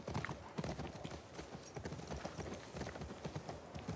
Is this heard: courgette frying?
no